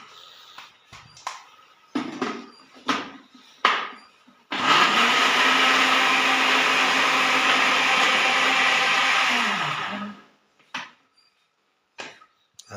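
Electric grinder milling sesame seeds and chili in a village kitchen: scattered knocks and taps, then one loud continuous whirring run of about six seconds that winds down, followed by a few more clatters.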